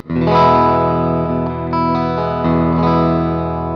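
A thick, sustained chord on an Umeda UST-20 electric guitar with its humbucker not coil-split rings out with heavy distortion and some reverb, played loud and full-bodied with a couple of re-strikes.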